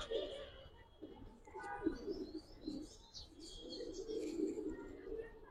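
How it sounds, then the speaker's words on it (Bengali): A female pigeon coos in low, rolling bursts at close range, with scattered chirps from other birds above it. "এটা মাদি কবুতর।"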